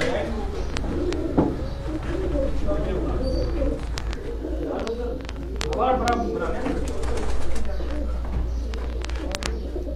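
Pigeons sitting inside a net enclosure at a pigeon loft in Medina Chowk, Gujrat, give steady, close cooing over a constant low hum, with people talking throughout.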